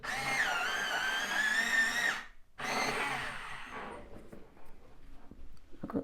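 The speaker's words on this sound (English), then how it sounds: "I'm going to sharpen mine up actually" Warm grey 3 colored pencil being sharpened: a loud, steady whirring grind for about two seconds, a brief pause, then a second shorter burst that fades into faint scratchy noise.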